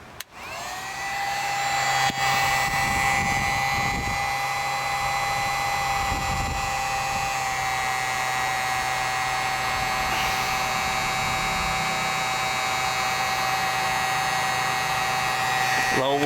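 A heat gun on its low setting blows steadily during fog light replacement work on a 2001 Pontiac Montana, producing a loud, constant motor-and-fan whine that starts up and runs unbroken throughout.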